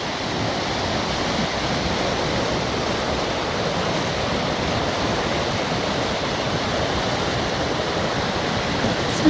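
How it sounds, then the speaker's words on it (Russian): A Teberda mountain river rushes steadily and close, a dense, unbroken roar of flowing water that holds level throughout with no voices. "Вот она бежит, река."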